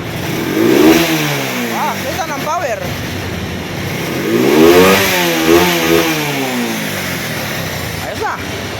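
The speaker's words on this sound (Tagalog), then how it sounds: "Ganda ng makinan, lakas pa." A car engine revs hard after a repair, in two strong rising-and-falling bursts with a steady running engine between them, close by, while people talk over it.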